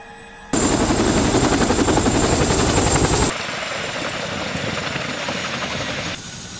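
A loud CH-47 Chinook twin-rotor helicopter roars with rapid rotor chop, then the noise drops to a steadier, somewhat quieter whine that continues to the end.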